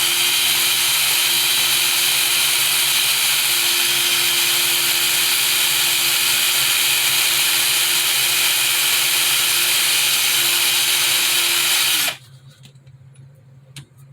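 A power drill spinning a 600/500 grit sanding sponge whines loudly and continuously, its motor pitch holding steady for about twelve seconds before cutting off into quiet room noise.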